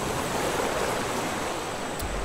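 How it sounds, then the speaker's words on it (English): Ocean waves in the survival game Raft, a continuous broadband roar of surf with windy texture, steady and fairly loud with no pauses, heard alone without talk. "Lots of waves."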